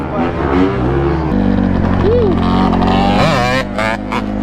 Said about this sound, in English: it's a 125, but it sounds like a literal 250 two-stroke